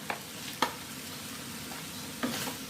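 Crab tossed with curry powder in a hot pan, a low steady sizzle broken by several sharp scrapes and clatters of a spatula stirring the pieces, close and fairly quiet.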